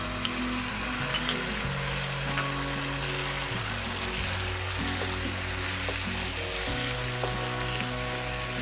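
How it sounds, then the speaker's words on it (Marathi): Tomatoes frying in a pan for misal pav, a steady bright sizzle throughout, sitting under a layer of background tones. "आता आपण टोमॅटो टाकून घेऊया।"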